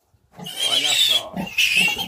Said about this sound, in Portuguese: Vou pegar o primeiro leitão aqui.